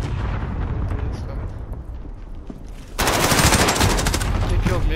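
Sustained automatic gunfire in Call of Duty Modern Warfare (2019) multiplayer, dense rapid bursts that grow louder and harsher halfway through, continuous and close, with a voice heard faintly beneath.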